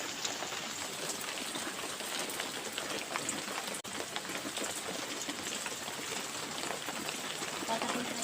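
Heavy monsoon rain pours steadily on a village thatched shelter and its surroundings on a morning, a dense, continuous hiss of drops and runoff, with a voice talking faintly underneath.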